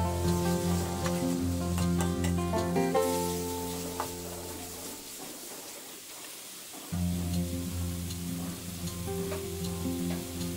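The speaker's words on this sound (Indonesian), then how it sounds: "Jadi menumisnya sebentar saja." Pre-boiled bamboo shoots stir-fried briefly in a pan give a loud, continuous sizzle over background music, dipping to near-quiet for a moment midway before the frying hiss returns.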